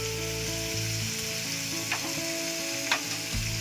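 Ginger paste and cumin crackle in hot oil for a Bengali pumpkin and potato dish, giving a brief, close, steady sizzle with a couple of stirring scrapes and no talking.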